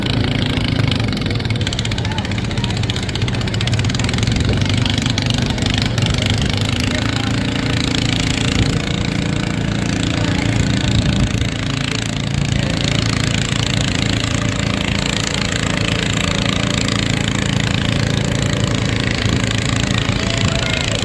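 An old 10-horsepower Cub tractor pulls hard in a tractor pull at a fair, its engine a loud, continuous rough drone that holds steady under the load, with an announcer's voice and crowd noise mixed in.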